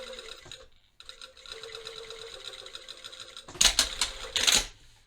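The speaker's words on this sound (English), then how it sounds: "finish sewing this to my waistband" A sewing machine stitches bias tape onto a waistband in a few short bursts of rapid mechanical whirring and clatter, with brief pauses between and a louder final run, close up and without talk.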